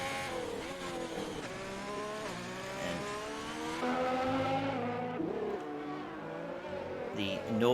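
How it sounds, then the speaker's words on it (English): F1 cars with V6 turbo engines in the F1 2020 video game at the Brazil Grand Prix, a continuous whining engine tone that shifts pitch through gear changes and revs, with commentary talk over it. "the noise from the engines, those V6 turbos, my apologies, echo across the hills and trees"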